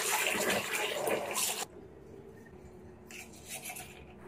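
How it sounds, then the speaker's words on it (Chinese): Pork tripe is rubbed and washed with flour under running water, first a steady loud splashing rush that cuts off abruptly, then quieter dripping and sloshing, close by without speech. "洗完后再用面粉揉洗，清洗干净"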